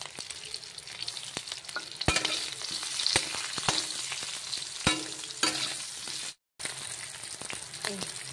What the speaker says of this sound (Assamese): আলুটো বইলে আছিল তথাপি ৰঙচুৱা হোৱাৰ কাৰণে আগতীয়াকৈ ভাজি ল'ম